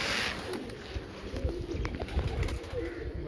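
Pigeons coo softly outdoors in evening sunshine, a low murmuring rumble that goes on throughout against light outdoor background noise.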